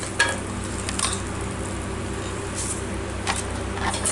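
Foxtail millet roasts in ghee in a pan while being stirred, giving a steady, soft sizzle and scraping. Faint clinks and swishes pass over a low background hum.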